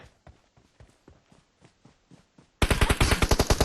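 Rapid, evenly spaced M1014 shotgun blasts in PUBG Mobile, faint and distant at first, then suddenly much louder and closer in a fast burst.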